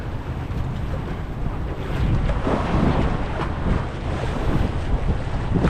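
Strong wind buffets the top deck of a fishing mother boat at sea, a gusty roar that rumbles into the microphone over the wash of waves, with no talking.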